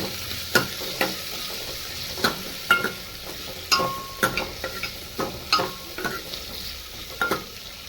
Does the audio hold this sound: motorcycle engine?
no